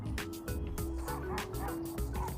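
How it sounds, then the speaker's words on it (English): Several huskies bark and yip repeatedly from a distance at a hilltop viewpoint in the Eynsford valley, a chorus of overlapping calls that carries through the outdoor air. "You might hear some dogs in the background."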